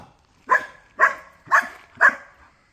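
Four evenly spaced, short barks ring out close by, each a clear yap followed by a brief silence.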